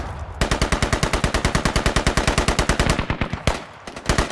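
Rapid automatic gunfire in the military shooter game Squad, a long sustained burst of evenly spaced loud shots, a brief pause, then another short burst, with no talking.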